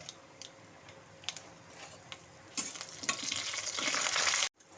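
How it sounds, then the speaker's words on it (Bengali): Dry red chillies and panch phoron crackle in hot mustard oil, the frying swelling into a loud, dense sizzle with spoon ticks before cutting off abruptly; close, no talk. "আমি শুকনো লঙ্কা আর পাঁচ ফোড়ন দিচ্ছি ফোড়নের জন্য"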